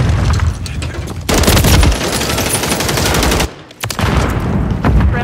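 Loud, sustained automatic gunfire from a Call of Duty Modern Warfare 3 multiplayer match, with dense rattling bursts, a brief lull near the end, then firing resumes, close and heavy.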